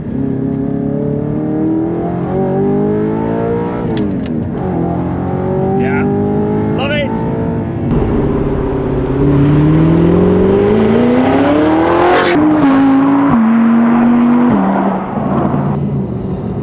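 A manual Audi R8 V8 engine revs and accelerates loudly and continuously, pitch climbing and dropping through gear changes, with a voice faintly audible beneath the roar.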